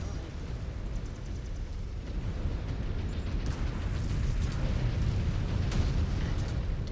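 A mech being destroyed in the MechWarrior 5: Clans video game sets off a loud, sustained rumbling explosion with dense low booms and crackling bursts that swell and continue throughout.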